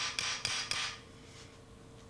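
Bronze-tipped hammer tapping the back of a piston stem while removing the piston liner from a Weihrauch HW95 air rifle, giving a few sharp metallic taps close by followed by a quiet stretch and one last tap.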